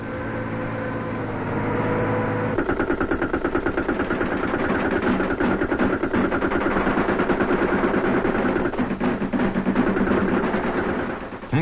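Tank machine gun fire giving close covering fire for advancing infantry of the Australian Task Force in Vietnam, long rapid bursts of loud rattling shots over a low engine rumble after a brief steady drone.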